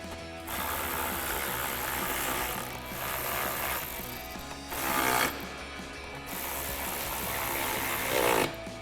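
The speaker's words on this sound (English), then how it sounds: "now we're just going to reinstall our plastic cover with our 3 8mm screws" A ratchet drives three 8mm screws into the plastic cover on a Jeep Wrangler JL, giving close, rapid clicking runs broken by short pauses between turns, with no talking.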